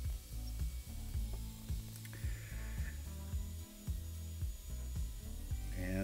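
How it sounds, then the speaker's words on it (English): A power drill grinds and drones close by, its low motor tone shifting in pitch as it bores 9/16-inch holes through metal on a welding table in uneven bursts. "I'm drilling 9/16 holes right here"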